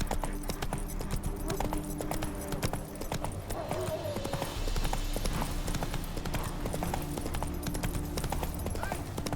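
Roach the horse gallops in The Witcher 3 with a fast, steady clip-clop of hooves, close and continuous, over a dense bed of game ambience, and a voice speaks briefly over it.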